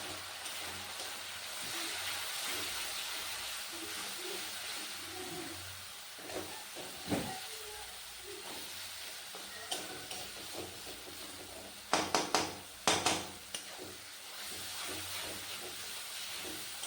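Ground turmeric, salt, chili, coriander and cumin sizzle in a pan as the spice paste is fried down. A steady hiss goes on throughout, broken by a few close stirring scrapes and clinks near the end.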